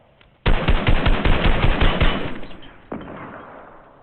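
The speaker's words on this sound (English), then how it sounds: "Oh shit, they're shooting me." Rapid automatic gunfire in the Fortnite video game, a loud sustained burst of close shots lasting about two seconds, followed by a single sharp shot and a fading tail, with no talk.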